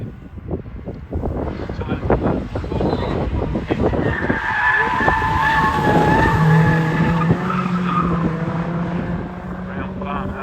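An MGB sports car climbs the Harewood hillclimb course, its engine revving hard and rising in pitch through the gears, loud and close at first and then drawing away uphill.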